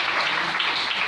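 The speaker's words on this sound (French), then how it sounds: "Est-ce qu'on peut acclamer le Seigneur?" A church congregation applauds and cheers to acclaim the Lord, a steady, dense wash of clapping held at even loudness for the whole moment, with no clear voice rising above it.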